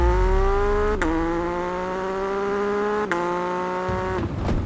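A 2024 MV Agusta Enduro Veloce motorcycle engine holds a steady, deep, crisp roar close by, with its pitch stepping up sharply twice as gears change, then dropping away near the end.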